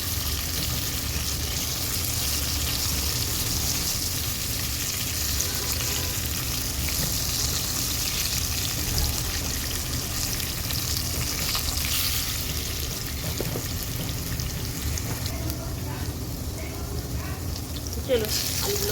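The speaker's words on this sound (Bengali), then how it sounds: "দেখুন আলুগুলো লাল লাল করে ভেজে নিয়েছি।" Potato pieces fry in hot oil for a fish curry, giving a steady, dense sizzle with soft crackles that runs unbroken from start to finish.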